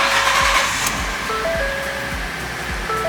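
A car engine cranks over during a battery starting test, with a steady run of low, rhythmic thumps close by beneath an even background hum and a few short electronic beeps.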